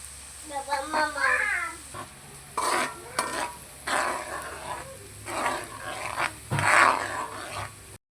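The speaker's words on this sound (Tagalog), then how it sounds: "Yan, ilagay ko na yung ating bawang." Garlic crackles and sizzles in hot oil for chilli garlic oil, uneven bursts of frying noise with stirring scrapes, close by, alongside brief vocal sounds.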